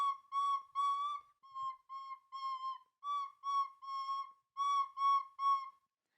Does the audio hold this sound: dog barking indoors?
no